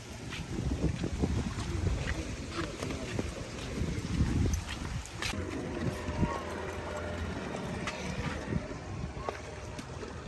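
A wooden jahazi sailing canoe travels at sea off Lamu, with steady wind buffeting and water rushing against the hull, while voices talk in the background.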